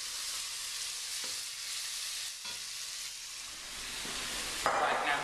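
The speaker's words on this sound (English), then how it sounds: "You can hear them sizzle." Finely diced onions sizzle in a very hot pan of butter and olive oil, a steady close hiss with occasional stirring scrapes and a brief louder crackle near the end.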